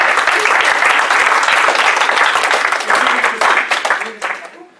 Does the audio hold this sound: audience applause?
yes